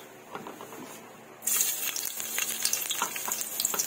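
Garlic and onion hit a hot pan, bursting into a bright sizzle that continues with crackling and stirring clinks after a quieter moment of handling.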